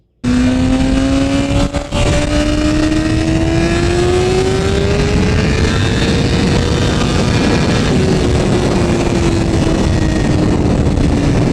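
A 1000cc sport motorcycle accelerates hard in first gear up to high speed, its loud engine note climbing steadily in pitch for several seconds under heavy wind roar, close and unbroken, no talk.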